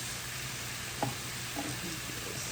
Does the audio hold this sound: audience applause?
no